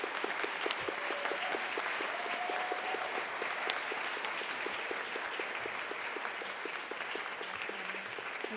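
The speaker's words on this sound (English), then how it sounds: "let's give them all another big round of applause." Sustained applause from a conference audience honoring showcased restaurant food waste solutions, steady dense clapping at moderate distance with no talk over it.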